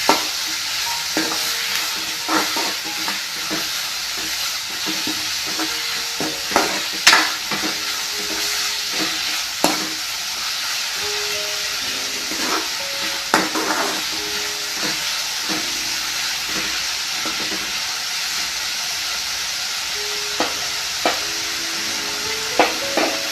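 Sliced onions sizzle and fry in a pan for a Kerala-style onion coconut milk curry, with a steady hiss broken by repeated scraping stirs of a spoon, close and clear with no talk.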